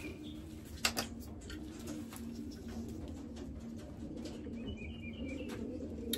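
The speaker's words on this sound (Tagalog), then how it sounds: "Yung mga ibon natin." Pet racing pigeons coo softly and repeatedly in the background, with occasional faint chirps and a sharp click amid low steady ambient noise.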